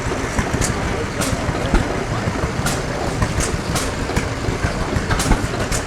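A small 1946-48 Gibson garden tractor engine runs at an outdoor equipment show: a steady, loud mechanical rumble with recurring sharper bursts over a constant drone.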